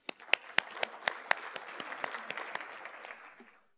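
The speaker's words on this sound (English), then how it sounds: "Please welcome him with a big round of applause" A large audience claps for a visiting professor about to speak at an economy talks event, the applause starting with a few sharp near claps, swelling into steady applause and tapering off over several seconds.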